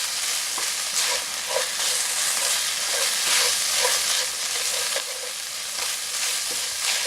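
Ground pork and mapo tofu sauce are stir-fried in a wok, giving a loud, continuous close-up sizzle with quick scraping stirs and small crackling bursts, and no voices.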